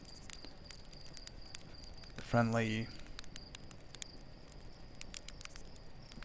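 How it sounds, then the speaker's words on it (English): Faint, steady cricket chirping in the video game Outer Wilds, a thin, high pulsing trill running quietly in the background, briefly interrupted by a short spoken phrase. "with the crickets in the background"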